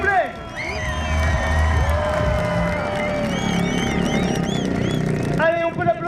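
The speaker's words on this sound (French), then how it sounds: "Allez, un tonnerre d'applaudissements, s'il vous plaît." A crowd at a drag racing show cheers, whoops and claps loudly, with a voice over a loudspeaker and excited shouts mixed in, swelling and then dropping off near the end.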